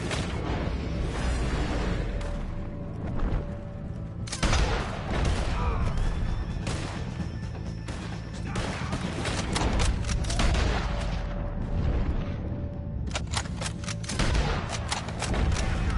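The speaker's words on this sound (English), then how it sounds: "Firing!" Shootout in Red Dead Redemption 2, with repeated sharp gunshots and booming blasts scattered across the scene amid ongoing action noise and occasional shouted voices.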